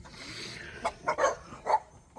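A dog gives a few short, high yips and whimpering barks in quick succession, close and fairly clear, with a quiet background and no talking.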